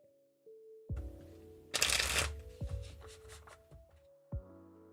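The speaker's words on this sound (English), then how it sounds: "Since we're just pulling 2 cards, I won't shuffle too crazy." A deck of Wild Unknown tarot cards being shuffled close up: soft riffling bursts and light slaps of cards, brief and gentle, over a faint steady tone in the background with no speech.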